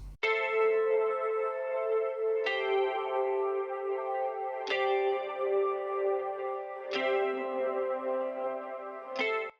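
A high, shimmering electric guitar part with heavy echo and chorus, sustained chords struck every couple of seconds and left to ring out spaciously.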